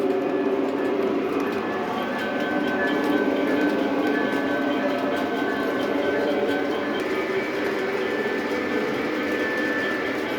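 A K-Line Mikado model train running on a Halloween layout, with a continuous steady rumble and whir with a thin high tone, even in loudness throughout and with no talking.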